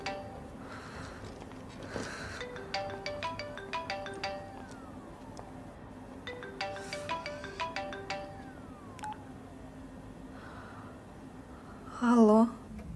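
A telephone in a Russian melodrama plays a melodic electronic ringtone. Repeated, clear phrases ring in two long bursts, with a short voice near the end.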